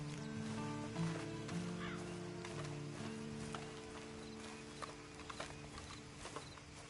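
Horse in Red Dead Redemption 2 walking along with soft irregular hoof clip-clops, faint and somewhat distant beneath steady ambient tones and background game sounds.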